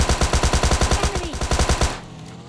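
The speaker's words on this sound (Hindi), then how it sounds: "मैं टॉमी से फायर करता हूँ" A Tommy gun fires in PUBG Lite, a long, loud burst of rapid, evenly spaced shots hammering for about two seconds before stopping abruptly, leaving a quiet tail.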